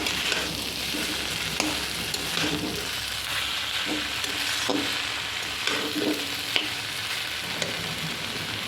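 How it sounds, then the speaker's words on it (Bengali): Chow mein noodles stir-fried with vegetables in a pan give a steady, continuous sizzle, with scattered scrapes and clicks from stirring throughout, close and moderately loud, with no voices. "চাউমিনটাকে সবজিগুলোর সাথে ভালো করে মিশিয়ে নিতে হবে।"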